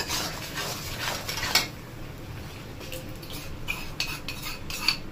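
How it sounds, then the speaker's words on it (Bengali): Sour yogurt is whisked into mutton in a pan, with a steady scraping and clinking of a utensil against the metal, close and continuous, with a faint background hiss. "টক দইটাকে ভালোভাবে এবার ফেটিয়ে নিচ্ছে।"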